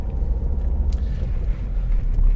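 A car driving around Folkestone near a roundabout gives a steady low engine and road rumble from inside the cabin, continuous and fairly loud with no talk.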